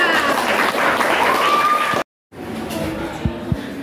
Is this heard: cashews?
no